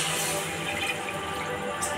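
Two and a half glasses of water pour into a pot of curry, a continuous close gushing splash that holds steady throughout without pauses; no speech.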